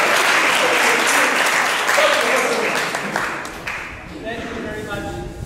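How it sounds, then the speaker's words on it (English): A crowd at a school gathering applauds loudly and evenly, with voices talking through it. After about three seconds the clapping fades and speech takes over. "Clap for him."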